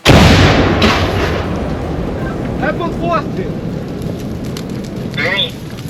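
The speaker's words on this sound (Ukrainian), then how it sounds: "Слухайте це, як вона бахкає, як воно така ж нутро бере." Artillery gun firing at a frontline position: a loud heavy boom opens the clip and then a long rumbling roar and echo trail off, with brief talk heard over the decay.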